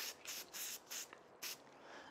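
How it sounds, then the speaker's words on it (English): Spray adhesive from an aerosol can misted onto the back of acetate stencils for modern wall stenciling, heard as five short, close hissing bursts in an uneven rhythm with no talk. "So to start, I'm going to spray some adhesive on the back of my"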